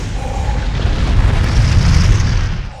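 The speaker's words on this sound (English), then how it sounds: "Holy explosion." A loud, rumbling explosion from the 1981 war film Das Boot, with a ship on fire at sea. The deep boom rolls on steadily for nearly three seconds, heavy in the low end and without any break.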